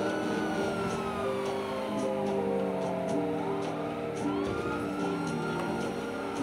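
A police car siren wails in the GTA V video game, a loud wavering electronic tone sweeping up and down over game traffic and engine noise, with no one speaking.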